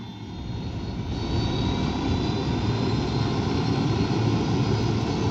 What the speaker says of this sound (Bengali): হেলিকপ্টার আছে সামনে